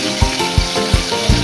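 Crushed garlic, cumin and mustard seeds fry in hot oil in a wok, giving a loud, close, continuous sizzle with rhythmic stirring bumps about every third of a second.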